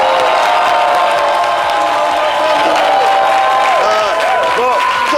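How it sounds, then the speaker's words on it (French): A studio audience at a TV show bursts into loud, sustained applause with cheers and whoops, a full crowd clapping continuously while voices call out over it. "Allez, applaudissements pour l'autre star de cette émission."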